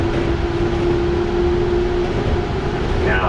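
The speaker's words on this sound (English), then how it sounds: "It can go around curves, sharper curves than like the heavier subway trains or commuter rail trains." Newark City Subway light rail train running along the track, a steady loud rumble with a constant tonal whine through the whole stretch and a rising squeal near the end.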